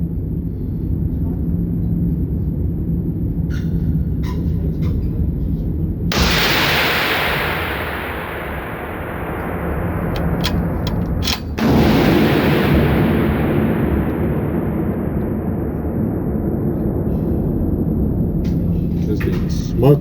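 A rifle loaded with 41.7 grains of N555 powder fires twice at a shooting range: two loud, sharp reports about five seconds apart, each trailing off in a long, rolling echo.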